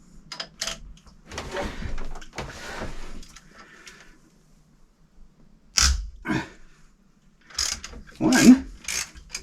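A socket wrench loosens bolts on a Westerbeke fresh water pump aboard a sailboat, producing close ratcheting clicks and metallic scrapes in short bursts with pauses. Faint handling noise fills the gaps between bursts.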